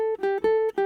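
A few plucked electric guitar notes from the solo of a reggae song, played as a brief close, clean phrase of about four short notes.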